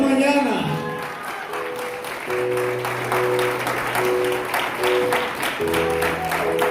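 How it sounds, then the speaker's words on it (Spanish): A church congregation claps in praise during a Spanish-language worship service, with sustained applause alongside held musical tones that continue steadily throughout. "Denle un aplauso al Señor esta mañana."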